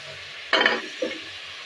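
Chopped tomatoes tip into a pan of chicken frying with onions for a pulao biryani, giving a short loud sizzling burst followed by a smaller second hiss over a quiet background.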